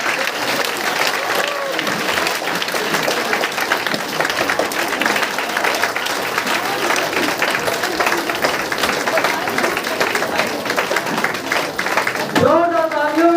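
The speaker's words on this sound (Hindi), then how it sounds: "एक जोरदार ताली होनी चाहिए।" A packed hall at a community meeting in Basti erupts in sustained, loud applause from a large crowd, with voices and cheering mixed into the dense clapping throughout.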